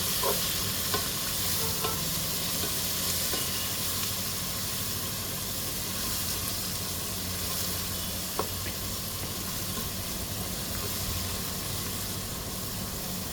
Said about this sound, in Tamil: சேர்த்து இதோட சேர்த்து நம்ம வதக்கிறோம்